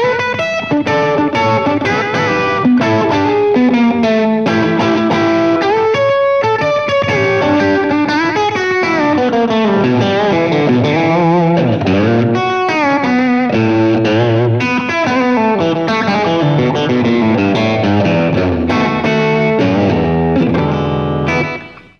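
A Fender Brad Paisley Esquire electric guitar plays through an amplifier with an aggressive, distorted tone, bending and sliding notes in a loud, sustained lead line with effects, continuous for over twenty seconds.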